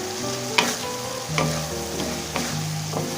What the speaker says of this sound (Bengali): এখন ঢাকনাটা খুলে নেব নাড়া দিয়ে দেবো